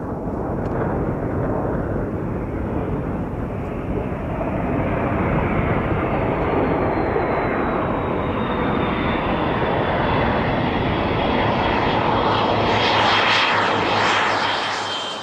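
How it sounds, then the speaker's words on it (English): Roaring jet engine of an F-117 aircraft, a loud broadband rush that holds steady and swells slightly, with a thin whining tone drifting downward through the middle and a brighter surge near the end. "To controllers, an F-117 is like any other plane."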